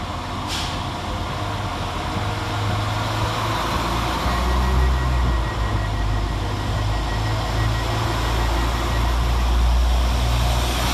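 Northern train 195117 stands at Bradford Interchange station, its engine giving off a steady, loud low rumble under a broad wash of station noise, without talk.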